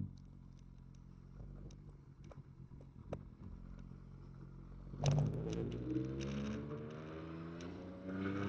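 Cars climb a winding mountain road with tight hairpin bends near Colma di Sormano above Bellagio. Distant engine noise builds into a louder, close passing vehicle with a rising whir and rumble, and no one talks.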